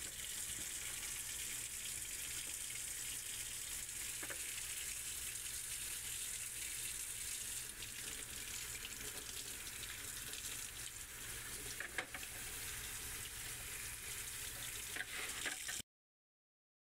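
Tap water runs steadily over new aquarium plants being rinsed, a continuous close splashing hiss that lasts the whole time before stopping abruptly.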